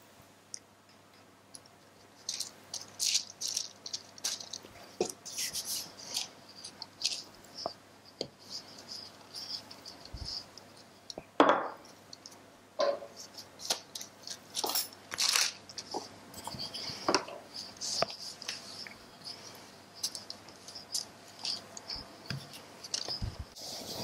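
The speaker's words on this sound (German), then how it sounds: "Den rolle ich nun aus auf dem Papier und drücke ihn dann in die eingefettete, bemehlte Form." Pastry dough being rolled out on baking paper and pressed into a greased, floured cake tin for a rhubarb tart: scattered soft crinkles, taps and scrapes come close up at an irregular pace, with no talking.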